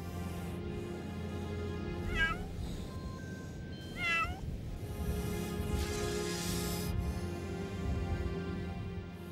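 A sand cat meows twice, short rising calls a couple of seconds apart, heard over a steady low background hum in a desert wildlife setting.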